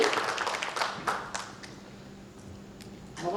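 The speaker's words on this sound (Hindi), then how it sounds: "श्री हार्दिक शर्मा जी को एक बार जोरदार तालियों के साथ स्वागत करें" Scattered audience claps at a formal power plant presentation fade quickly from a brief burst into a few isolated, faint taps, leaving near silence before one last small flurry.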